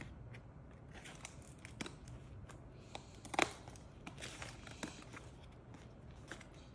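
Scissors snipping at toy packaging for Lego Revolutionary War soldier minifigures, with quiet scattered rustles and clicks and one sharp louder cut in the middle, close by.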